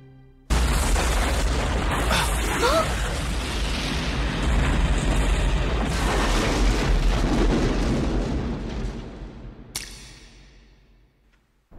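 A mysterious explosion on Fukube island in The Soultaker anime erupts abruptly as a loud, sustained rumbling roar. It holds for several seconds, slowly fades, and ends with one brief sharp crack.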